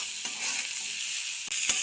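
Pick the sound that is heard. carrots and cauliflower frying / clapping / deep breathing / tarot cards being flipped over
carrots and cauliflower frying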